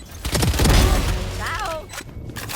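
Grenade blast and a burst of gunfire in a tactical shooter video game round, with a booming low thud followed by rattling shots, loud and close, while a player speaks over the action.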